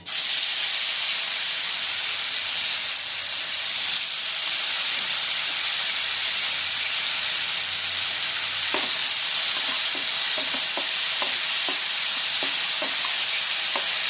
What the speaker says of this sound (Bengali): 5-7 মিনিট ধরে ভালো করে লো ফ্লেমে কিন্তু আমরা পেঁয়াজগুলো ভেজে নিয়েছি